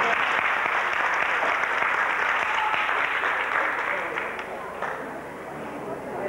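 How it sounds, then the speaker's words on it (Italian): An audience at a stage magic show applauds, sustained clapping from a crowd that continues for several seconds and tapers slightly near the end. "Un applauso al signore che si è portato."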